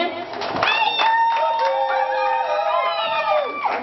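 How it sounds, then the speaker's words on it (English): Wedding guests clap and cheer in a lively crowd, the applause mixing with excited shouts and sustained whooping voices that carry over it throughout. "Clap for him."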